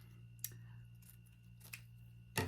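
Scissors snip deco mesh from a roll, a few quiet, separate cuts against a low steady hum, ending with a louder rustle.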